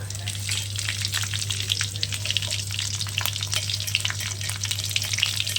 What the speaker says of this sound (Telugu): ఎండుమిర్చి ఇది కొంచెం వేగాలి